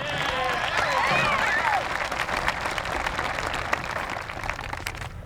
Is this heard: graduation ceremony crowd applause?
yes